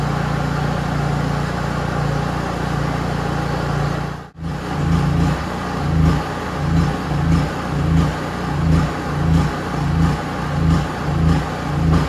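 A Honda EU3000is inverter generator engine runs with a steady loud drone that briefly dips and cuts out, then resumes with a rhythmic pulsing hum, close and alone.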